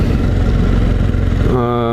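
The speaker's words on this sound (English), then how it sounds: "Love the sound of this bike." A sport bike with an inline four-cylinder engine runs close by, its loud throbbing exhaust pulsing rapidly and then settling into a smoother rising tone near the end.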